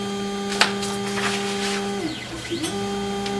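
A Voxelab Proxima resin 3D printer raises its bed with a steady, close motor whine. The pitch dips and climbs as the platform shifts, over a faint background hum, with no speech.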